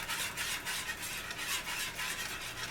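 Flour gravy cooks in a skillet with a dense, continuous sizzle, and a spoon stirring through it gives a rhythmic, pulsing swish. The sound is close and steady, and no one speaks over it.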